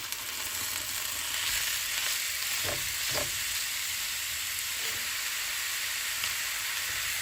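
Venison hits a pan of golden onions and fries with a steady close sizzle, marked by a couple of brief louder spatters midway.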